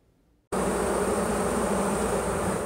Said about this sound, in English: thousands of bees are settling into a new home